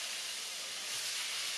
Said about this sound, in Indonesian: Masukkan tongkol yang sudah kita garamin dan dicuci bersih. Kita goreng